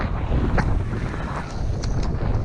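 Strong wind buffeting a microphone outdoors in open bird-hunting country, a loud rumbling roar with gusty swells and faint higher rustles, no talk.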